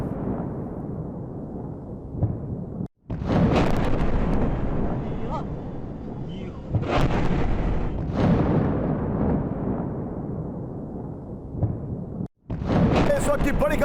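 Booming blasts from a Russian attack ring out in rough news footage, several heavy bursts with crackling debris and brief dropouts between them, close and loud, with voices under the noise.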